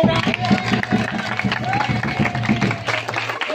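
An audience at a Betawi palang pintu silat performance claps in quick, rhythmic bursts close by, mixed with crowd chatter and voices throughout.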